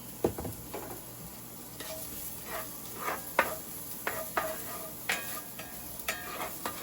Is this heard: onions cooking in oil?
yes